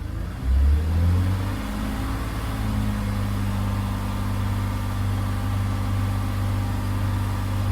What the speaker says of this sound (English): Let's try and hit 2000 RPM,